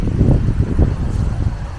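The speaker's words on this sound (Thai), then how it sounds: "ลมกระแรงนะคะนี่" Strong wind gusting outdoors along a roadside, buffeting the microphone in loud, uneven low rumbles for a couple of seconds.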